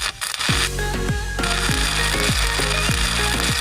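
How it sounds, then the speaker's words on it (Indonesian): Heated iron is hammered into a ring during forging. Rapid, rhythmic pounding blows repeat at a steady pace, loud and mechanical over continuous workshop noise. "besi yang udah dipanaskan harus dibentuk dengan cara ditempa"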